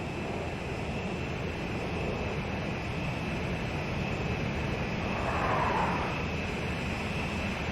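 Steady, loud jet engine roar from a fighter aircraft in the flight game Ace Combat 05, a constant broadband rumble with a high whine, holding smoothly with a slight swell near the end.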